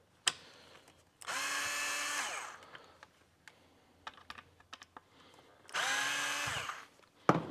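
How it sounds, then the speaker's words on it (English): A power screwdriver buzzes in two separate bursts, each about a second or two long, as it loosens a pair of screws on the back plate of a convex mirror, with clicks and handling noises in between. "We're just going to loosen these two screws just to make it a little easier to run the wire here in a minute."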